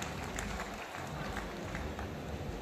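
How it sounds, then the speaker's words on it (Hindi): Loud crowd applause at a tent dealers' association convention closing ceremony in Pali district, a dense continuous wash of clapping from a large hall audience, steady throughout. "इसके लिए जोरदार तालियां दोनों समाज के लिए"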